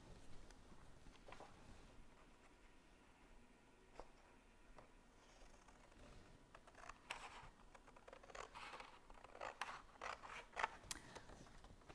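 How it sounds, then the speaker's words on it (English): Scissors snip through paper to cut out a stencil, quiet close crisp cuts in irregular bursts, growing busier toward the end against a faint background. "My scissors."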